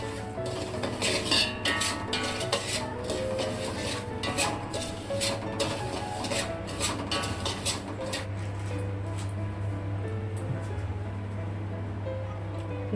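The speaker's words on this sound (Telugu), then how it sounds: "సన్న మంట పైన వేయించుకోవాలి." Continuous scraping and light metallic clinks of semolina being roasted and stirred in a pan over a low flame, steady and close, with a low hum underneath.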